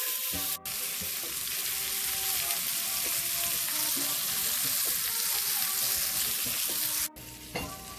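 Chicken wings fry in olive oil and butter for smothered wings, a steady, loud, dense sizzle running unbroken with no talk, briefly dipping twice.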